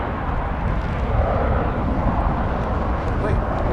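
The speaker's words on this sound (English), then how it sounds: "American Flight 665 coming in from Montrose" An American Airlines airliner arriving on a runway at Dallas/Fort Worth airport, a steady broadband jet roar that stays loud and even throughout, with a voice talking over it.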